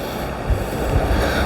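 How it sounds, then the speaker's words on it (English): Sea waves wash over rocks on the Welsh coast, a steady loud roar of surf and wind with heavier surges breaking in about every half second. "as the waves are coming over as well, they're washing over that section"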